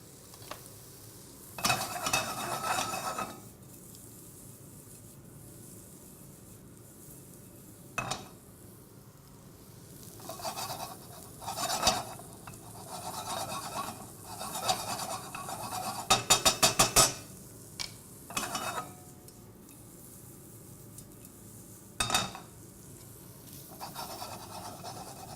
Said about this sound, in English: almost saute these guys just a little bit.